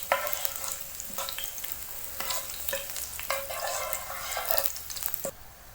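Garlic and almonds frying in ghee, stirred steadily with a spoon: a continuous sizzle runs throughout with repeated scraping strokes and small clinks against the pan, fairly close, with no voices.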